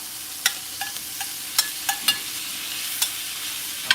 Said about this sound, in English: I want to get that hot sizzle on that steak